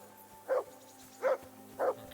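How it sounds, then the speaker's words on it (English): A dog barks loudly in the video game Kingdom Come: Deliverance II, three separate woofs spaced evenly over a steady low ambient hum. "We got a really loud barking dog here."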